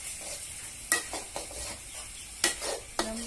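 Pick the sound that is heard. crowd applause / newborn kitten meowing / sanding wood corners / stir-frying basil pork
stir-frying basil pork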